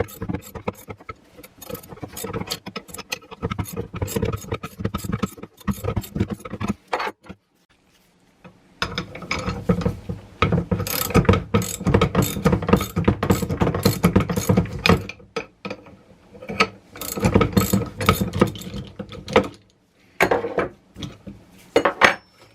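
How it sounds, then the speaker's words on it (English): Power steering pulley puller tool being cranked to draw a pressed-on pulley off its shaft, loud dense ratcheting clicks and metallic clatter in long bursts separated by brief pauses. "we're going to crank this up a little bit in speed because it does take, a little effort to pull this pulley off."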